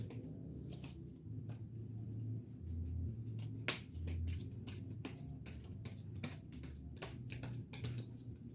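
A deck of playing cards being shuffled by hand, giving a run of rapid crisp riffles and snaps, repeated irregularly over a low background hum, close and moderately quiet, with no talking.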